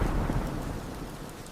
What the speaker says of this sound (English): A sudden crack of thunder echoes through the forest. It is followed by the drumming of rain hitting the canopy.